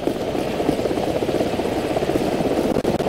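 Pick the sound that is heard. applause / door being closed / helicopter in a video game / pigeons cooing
helicopter in a video game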